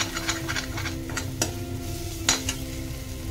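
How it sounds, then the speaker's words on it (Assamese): Masala with chicken masala fries and sizzles in a pan for a steamed egg curry, with a steady hiss under repeated close scraping stirs and two sharper clinks of the spoon. "এতিয়া এইখিনি মই ভালকৈ ভাজি লৈছোঁ"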